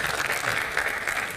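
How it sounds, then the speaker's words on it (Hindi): Steady applause from a studio audience at a Hindi television show, a continuous dense patter that stays fairly loud throughout with no voices on top. "भाई ताली पीटो"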